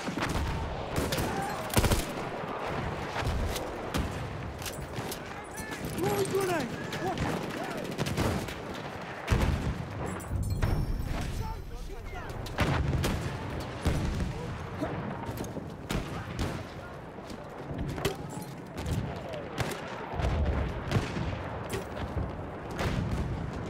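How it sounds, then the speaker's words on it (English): Bursts of gunfire and explosions from a Battlefield 1 conquest match, dense and continuous throughout with shots at varying distances, mixed with shouted voice lines from soldiers. "Machine gun over there."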